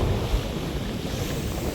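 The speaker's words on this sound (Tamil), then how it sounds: "இந்த சுழட்டி காற்றடிக்குது பாருங்க." Strong swirling wind roars steadily at a flooded Amman temple in Manipay, buffeting the microphone with a dense, constant rush and low rumble and no voices.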